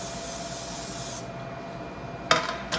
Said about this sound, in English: some cooking spray here.